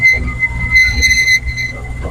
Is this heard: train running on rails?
yes